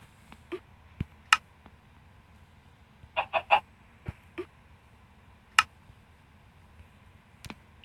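A hen that has just laid an egg, out at dusk near home, gives a few short, scattered clucks close by, with faint clicks and taps between them and no talking.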